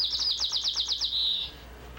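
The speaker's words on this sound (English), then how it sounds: "It was the song of a male white-crowned sparrow." A male white-crowned sparrow sings a clear, close song: a run of about eight quick, evenly spaced high whistled notes that merge into a sustained buzzy trill, then stop.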